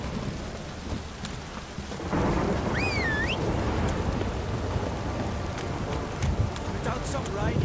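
Steady heavy rain pours through a stormy scene in The Witcher video game, a dense continuous wash that swells louder after the first two seconds, with a brief creaking call and faint voices in the background.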